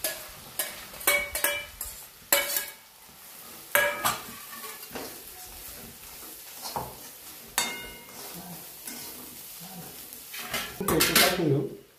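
Cumin spice masala is sautéed in a pan for khare vange, with repeated close clanks and scrapes of a spoon against metal over a faint sizzle and occasional talk.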